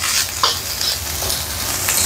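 Fried rice being stirred in a heavy wok, with a steady sizzle of frying throughout and a few soft scraping strokes of the spatula against the pan, close and fairly loud.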